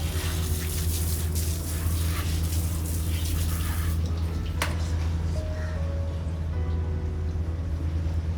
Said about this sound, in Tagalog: Tapos lalagyan na natin ng tubig.